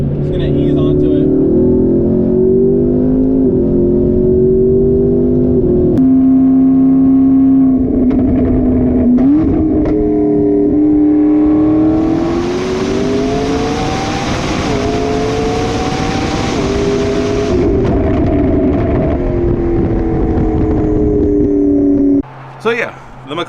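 A McLaren with an aftermarket exhaust idles, then revs up and holds a rising, droning engine note, loud and close, with talking heard over parts of it.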